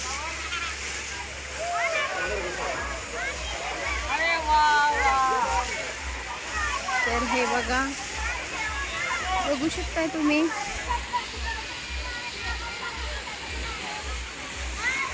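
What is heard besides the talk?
people splashing and playing in a water park swimming pool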